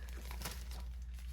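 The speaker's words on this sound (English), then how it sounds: "just throw them in the Ziploc bag." Plastic Ziploc bag crinkling in a kitchen while chicken wings are being prepped, a steady, close, continuous rustle with one sharper crackle partway through and no talking.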